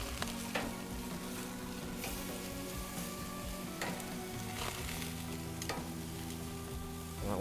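Pork chops sizzle steadily on an outdoor grill, a soft continuous crackle with faint clicks and scrapes as the meat is flipped.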